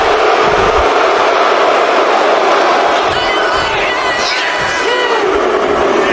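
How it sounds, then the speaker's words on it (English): Dense, steady crowd noise from a WWE SmackDowN video game arena, a continuous loud roar of booing throughout with an announcer's voice talking over it. "And the crowd just boos him."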